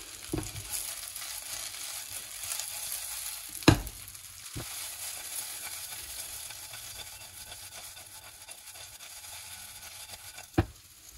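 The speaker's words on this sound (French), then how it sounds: "je vais les faire recuire pendant 2-3 minutes" Eggplant and cherry tomatoes fry in a pan with a steady, close sizzle, broken by a few sharp clinks of a utensil against the pan.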